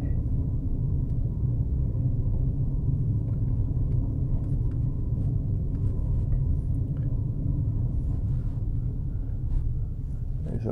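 A car rolling along a bumpy dirt road in Belleplain State Forest, with a constant low engine and tyre rumble heard from inside the cabin and scattered light knocks and rattles over the bumps.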